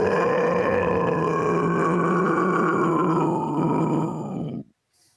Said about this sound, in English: throaty cry